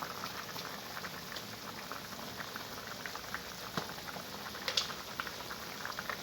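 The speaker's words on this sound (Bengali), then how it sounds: "বন্ধুরা দেখুন, তরকারির জলটা ফুটছে।" Curry water boils in a pot with a continuous close bubbling and popping, and steady liquid patter throughout with no voices.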